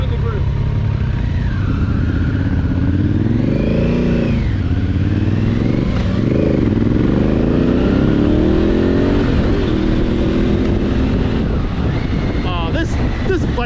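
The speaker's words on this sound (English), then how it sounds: "Oh, this bike sounds great." A 2021 Harley-Davidson Pan America motorcycle is ridden on the road, its engine droning and rising and falling steadily under heavy wind noise, while riders talk over it.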